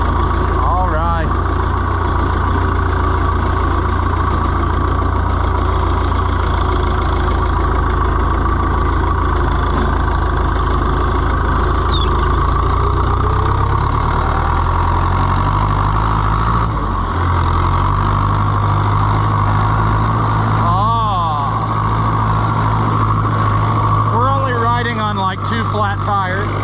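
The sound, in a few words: Oliver 1365 tractor engine running while driving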